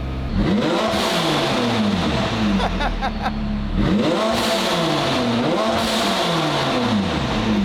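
A McLaren 675LT with a 4.0L engine barks and revs close by, with three repeated rising and falling throttle blips over a loud, rough idle.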